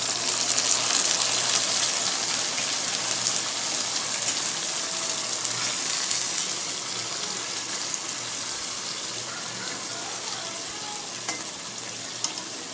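Pabda fish simmers in a pan with a prepared spice paste, giving a loud, steady bubbling sizzle that runs unbroken throughout with no talking.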